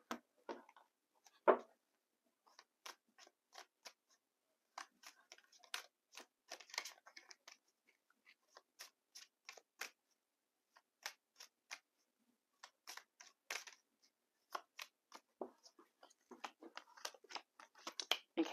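Tarot cards laid out one by one on a table, heard as a long run of sharp, dry clicks and flicks in irregular clusters, close and fairly quiet with near silence between, and no talking.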